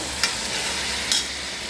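Chicken pieces frying in a pan, giving a steady, close crackling sizzle with two brief sharper spits along the way.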